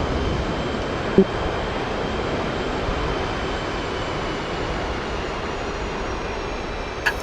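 Military jet aircraft taxiing in a combat flight-simulation game, a steady broadband engine roar with a constant whine held evenly throughout, brief clicks near the start and end.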